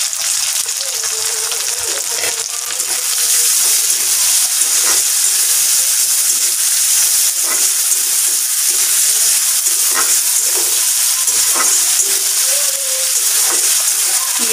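Onion, garlic and tomato frying in a pan for pasta give a loud, continuous sizzle and hiss, with occasional stirring scrapes and clinks breaking through the steady crackle.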